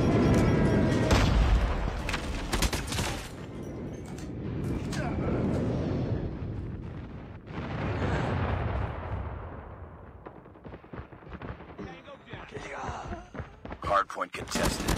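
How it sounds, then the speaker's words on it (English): Friendly airstrike explosions in Call of Duty Mobile, a string of booms and rolling rumbles mixed with gunfire and thuds, fading and returning over fifteen seconds, with game announcer voice lines. "Friendly airstrike incoming."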